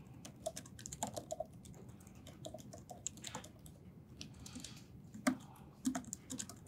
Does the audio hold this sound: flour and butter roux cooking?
no